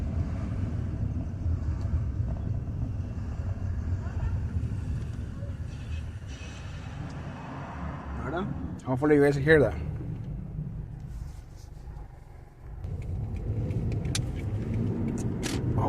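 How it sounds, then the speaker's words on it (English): Low grinding and rumbling from the rear of a 2010 Toyota Matrix while driving, a steady road drone with a brief rattling burst partway through; a person speaks over it. "Why it's making that grinding noise, which is not normal."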